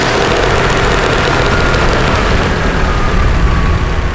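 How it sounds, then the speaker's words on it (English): A Nissan S14 Kouki idles steadily on stock injectors, a close, continuous low engine rumble with a slight knocking texture, heard alone without voices. "Now we got it idling clean on the stock injectors"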